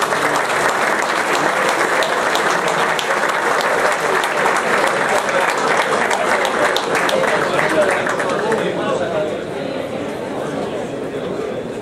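Loud, sustained crowd applause at a youth football medal ceremony honoring a standout player, with chatter mixed into the clapping, dropping slightly in level toward the end.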